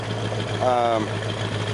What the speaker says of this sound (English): it's just a good, healthy engine